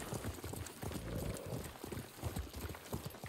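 A horse's hooves clip-clop at a quick, rhythmic gait on a path in the Ghost of Tsushima video game, beating steadily and fairly close, with faint background sound underneath.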